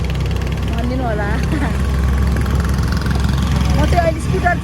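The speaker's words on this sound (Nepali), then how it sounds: "म चाहिँ अहिले स्कुटर चलाइरहेको छु।" A scooter engine drones steadily beneath the rider on a ride from Bishnumati toward Budhanilkantha, with faint vehicle horns and passing traffic nearby; no talking is evident.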